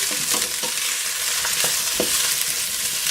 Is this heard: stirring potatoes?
yes